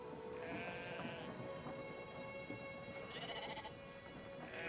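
Sheep in the video game Brothers: A Tale of Two Sons give a couple of thin, wavering bleats, faint and set back under a steady wash of rain and distant rumbling thunder.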